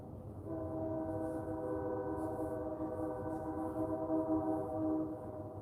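A train passes in the background, a steady, fairly loud rumble with sustained horn-like tones running throughout, with no talking.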